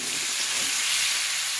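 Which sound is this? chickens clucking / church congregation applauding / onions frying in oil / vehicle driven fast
onions frying in oil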